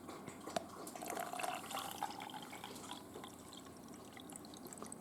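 Regular tap water poured into a container holding salt and magnesium, a steady splashing trickle with small drips, close and moderately quiet, running for several seconds.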